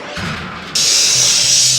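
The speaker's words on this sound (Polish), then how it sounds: "I szlifierka!" Loud harsh high-pitched whine of an angle grinder kicks in abruptly after a brief low rumble and continues steadily nearby.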